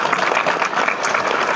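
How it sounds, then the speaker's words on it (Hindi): An audience at a school event applauds, a dense, steady wash of many hands clapping together at moderate loudness. "ताली तो बजा दो"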